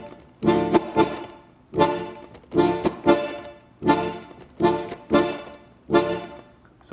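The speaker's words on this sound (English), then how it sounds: "One is called the syncopa, which is a syncopation, and it sounds like this." A syncopated tango syncopa rhythm on a single instrument, played alone and up close: clusters of accented, sharply attacked chords repeat about once a second, each group leaning on an off-beat second hit.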